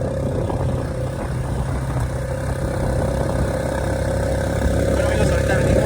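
A motorcycle carrying three riders on a road in Collantes, Oaxaca runs with a steady droning engine note, loud and close throughout, with wind and road rumble and no clear talk.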